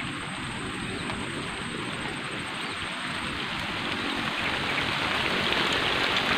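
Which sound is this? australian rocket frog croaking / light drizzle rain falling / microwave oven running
light drizzle rain falling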